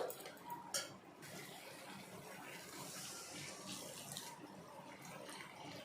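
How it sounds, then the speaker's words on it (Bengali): Hot water pours into a kadai of spiced cashew masala for a potato-cauliflower curry, a soft steady splashing stream with a faint clink of cookware at the start, close and fairly quiet. "তাই এখন ওর মধ্যে দিয়ে দিচ্ছি গরম জল।"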